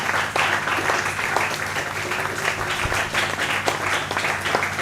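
Applause from a church congregation celebrating the Lord, a dense steady wash of clapping hands that fills the room and carries on evenly without letup for several seconds.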